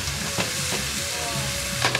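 Meat frying in a pan with spices and salt for Indian party dishes, a steady close sizzle with stirring scrapes and a few utensil knocks, no talking.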